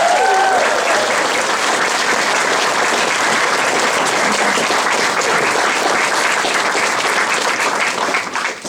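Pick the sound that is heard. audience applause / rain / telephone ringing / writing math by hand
audience applause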